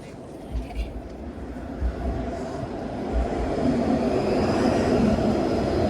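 A Kingston Road streetcar rumbles along King Street East in downtown Toronto, a low rolling drone building in loudness as it approaches, with city street noise around it.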